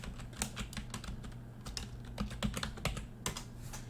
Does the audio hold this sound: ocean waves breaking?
no